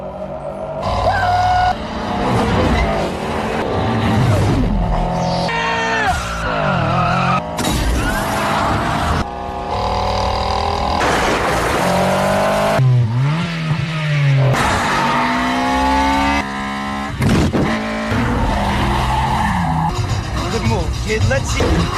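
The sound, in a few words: race cars accelerating and skidding in a film street race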